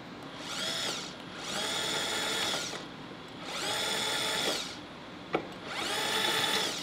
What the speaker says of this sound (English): I switch over to the drill with the countersink, and I can do a quick deburr.